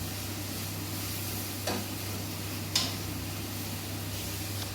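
Okra (bhindi) sabzi sizzling in a pan, a steady close frying hiss over a low hum, broken by two brief scraping stir clicks, with no talking.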